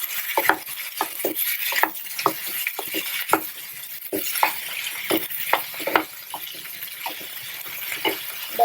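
Curry leaves go into a hot pan for tomato chutney made to go with idli and dosa, giving a steady sizzle and crackle with scattered sharp pops and spatters.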